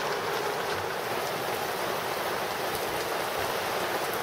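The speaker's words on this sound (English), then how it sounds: "It's the last week of June and the rain just doesn't stop." Rain pours steadily onto a boat moored at Kalamata, Greece, a dense continuous hiss of drops on deck and water, even and enveloping with no pauses.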